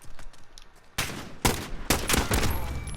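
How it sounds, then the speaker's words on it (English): Several AN-94 rifle bursts in Call of Duty Modern Warfare, with loud close shots at about one, one and a half and two seconds, then more rapid gunfire, over quieter background shooting. "definitely the burst fire is definitely good for this"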